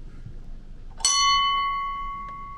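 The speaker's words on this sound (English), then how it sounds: "Ship's bell." A ship's bell on a steel ketch strikes once, clear and close, its bright metallic ring sustaining and slowly fading over a quiet background.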